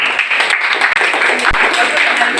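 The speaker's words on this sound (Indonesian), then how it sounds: "Tepuk tangan Mbak Lutfi." Students in a school classroom clap steadily for Mbak Lutfi after her presentation, with continuous close applause throughout.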